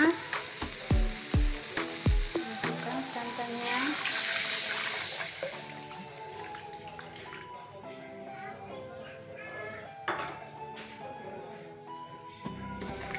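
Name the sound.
pouring coconut milk into spiced cassava leaf mixture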